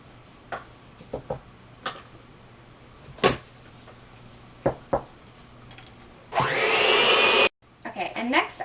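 An electric mixer beats a large egg into creamed cookie dough for chocolate chip cookies, running loudly for about a second after several sharp clicks and knocks of kitchen handling.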